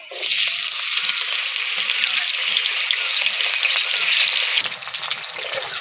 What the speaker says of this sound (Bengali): তেল গরম হয়ে গেছে উচ্ছে দিয়ে দিচ্ছি